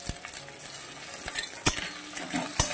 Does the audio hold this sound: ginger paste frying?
yes